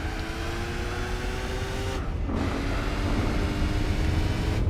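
A 1960s car driven around a racing circuit in Gran Turismo 4 drones steadily close up, its engine tone holding, then briefly dropping at a gear change before rising again under continuous tire and road rumble.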